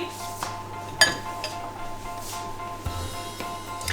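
A spoon scrapes cake batter for a marble pound cake off a spatula inside the bowl of a Monsieur Cuisine Smart kitchen machine, giving a few light clinks and scrapes spaced out over a quiet background hum.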